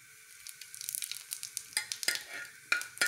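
Half a teaspoon of cumin seeds frying in hot oil, heard as a light crackling sizzle with sharp pops and a few stirring scrapes, fairly quiet and close.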